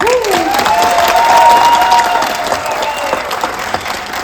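Loud, sustained applause from the audience at a Marathi play fills the hall as a crowd of hands claps steadily, with rising whistle-like tones over the first seconds before the clapping gradually thins.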